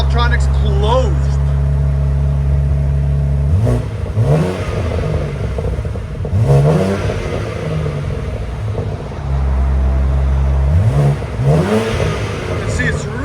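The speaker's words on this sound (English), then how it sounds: "So this is with the muffler, with the Valvetronics closed." A 2023 BMW M3 Competition with a titanium exhaust, muffler fitted and valves closed, idles with a steady low drone and then blips the throttle several times in short rising revs, nearby and moderately loud.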